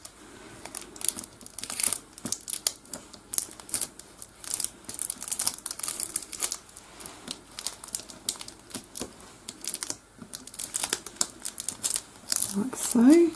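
A paper wrapper is folded and pressed around a mini wrapped candy made as a craft embellishment, giving close, irregular crinkling and rustling throughout, with a soft person's voice underneath.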